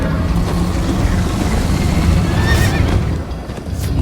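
Horse galloping and neighing in the Minecraft: Story Mode video game, a loud steady rumble of hooves throughout with a whinny rising over it midway, under a dense game soundtrack.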